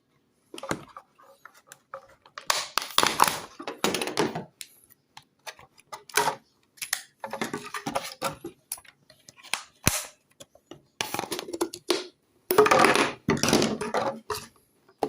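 Scissors or a blade cutting through the neck of a plastic water bottle, giving irregular bursts of crackling, snapping plastic with sharp clicks and pauses between cuts, close up and without speech.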